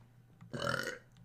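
One short, throaty burp rises and fades during a playful burping contest, a single eructation standing alone against a quiet room.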